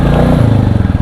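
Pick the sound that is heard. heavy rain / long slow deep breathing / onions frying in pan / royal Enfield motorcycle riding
royal Enfield motorcycle riding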